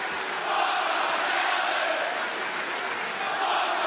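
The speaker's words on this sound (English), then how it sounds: "the sold-out crowd in St. Louis is voicing their opinion as well" A sold-out wrestling crowd in St. Louis roars and chants in a steady, dense wall of noise that fills the arena without a break.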